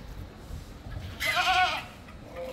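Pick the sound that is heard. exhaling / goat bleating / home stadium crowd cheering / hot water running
goat bleating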